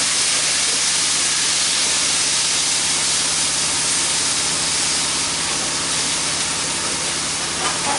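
Oyster sauce sizzles hard in a hot wok, a loud, dense, continuous hiss that holds steady for the whole stretch with no voices.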